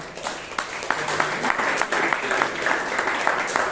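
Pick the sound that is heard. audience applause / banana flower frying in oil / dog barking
audience applause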